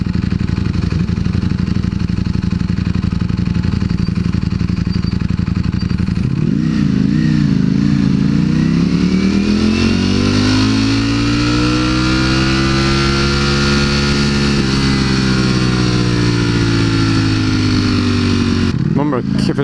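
A Yamaha R6 motorcycle runs close by at a loud, steady idle, then its engine revs up sharply to a high, sustained scream before easing back down and dropping off abruptly at the end; a voice talks under it.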